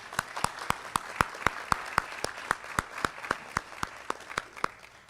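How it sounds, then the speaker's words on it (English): Evenly spaced, distinct claps in a steady rhythm over faint background applause at a physical therapist assistant pinning ceremony, about three claps per second throughout. "One more round of applause for these wonderful students"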